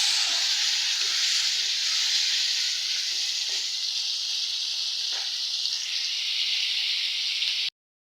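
Prawns, green chilies and onions sizzle and hiss steadily in hot oil in a wok, a loud continuous broadband fry with faint clinks, cutting off abruptly near the end.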